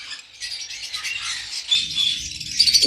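Several cockatiels chirp and twitter continuously in a busy, high-pitched chorus, with a low rumbling noise joining in partway through.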